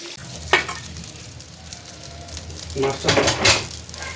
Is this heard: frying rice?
yes